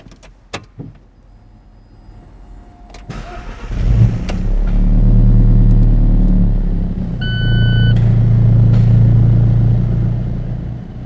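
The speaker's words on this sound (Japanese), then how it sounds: "ではエンジンを始動します。" A 2015 Alfa Romeo 4C engine cranks and fires up, surging into a loud, deep rumbling idle with a couple of revs, after some quiet clicks and a brief electronic chime.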